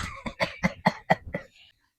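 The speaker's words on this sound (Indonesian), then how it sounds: "Aduh, aki batuk." An old man coughing in a rapid burst of about eight harsh hacks close up, rising in force then trailing off into a brief wheeze and silence.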